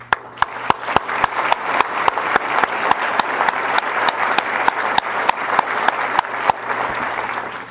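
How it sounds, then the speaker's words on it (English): An indoor audience at a State of the City address in Marion, Iowa applauds with dense, sustained clapping. Louder individual claps stand out above the crowd at a steady pace. "I think it deserves applause"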